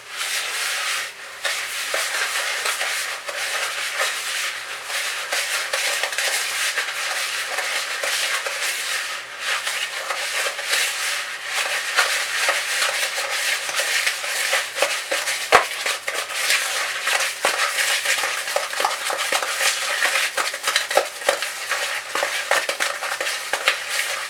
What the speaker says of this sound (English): Let's mix this together.